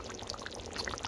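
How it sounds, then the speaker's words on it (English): A thick smoothie of boiled pumpkin blended with condensed milk and nutmeg is poured out of a Vitamix blender jar, giving a brief, steady, close gurgling pour with small glugs. "So I gotta pour that out"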